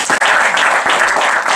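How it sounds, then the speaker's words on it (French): Loud, dense audience applause at an end-of-programme gala evening, a steady wash of many hands clapping close by with no talk over it. "notre amie Olivia, qu'on applaudit bien fort."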